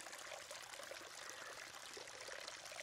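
Fresh water pours steadily into a goldfish pond during a water change, a continuous close splashing rush with no pauses and no voices.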